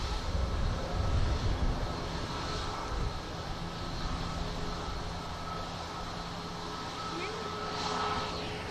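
A Dash turboprop airliner passes an airport, a broad steady engine roar with a droning tone that swells early and slowly eases, heard from a distance.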